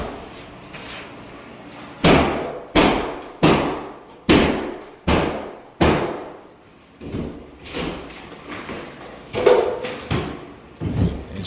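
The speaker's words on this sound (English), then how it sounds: "she's tearing out the wall" Drywall being torn out of a wall during handyman training, heard as a run of loud, close slams and thuds spaced about a second apart, then a rougher stretch of softer cracking and scraping impacts.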